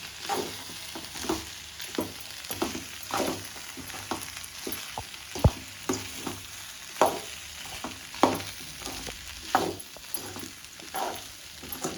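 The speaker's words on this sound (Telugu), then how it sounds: "బాగా కలిసేద్దాం" A spoon stirs and scrapes beans through hot oil in a pan for a homemade breakfast, repeated knocks and scrapes over a soft, steady sizzle.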